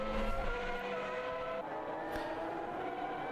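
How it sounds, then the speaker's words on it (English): Two Ferrari Formula 1 cars from 1995 lap the Catalunya circuit in a racing video game, their high engine whine holding steady and loud with shifting harmonic pitch over continuous track ambience. "there we have two Ferraris out on track at the same time"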